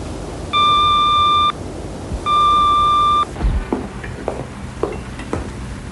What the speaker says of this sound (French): Parlez bien après le bip sonore, s'il vous plaît